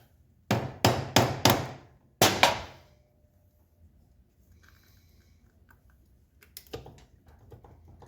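Five sharp, close knocks from a rubber mallet, four in quick succession and one after a pause, then near silence with faint scattered clicks and a final small tap.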